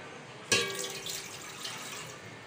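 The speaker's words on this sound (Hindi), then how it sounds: "डेढ़ किलो पानी डालना है आप लोगों ने।" Water poured into a cooking pot holding rice, beginning with a sudden splash and settling into a steady, close pouring and trickling sound with no talk over it.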